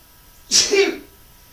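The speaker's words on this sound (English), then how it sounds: "I'm maybe going to sneeze in a minute." A single sharp sneeze, close and abrupt, bursting out of near silence and fading quickly.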